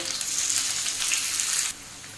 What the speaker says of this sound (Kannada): ಸ್ವಲ್ಪ ಹಸಿಮೆಣಸಿನ್ಕಾಯಿ ಇದನ್ನು ಹಾಕೊಂಡ್ಬಿಟ್ಟು ಸ್ವಲ್ಪ ಫ್ರೈ ಮಾಡ್ಕೊಳ್ಬೇಕು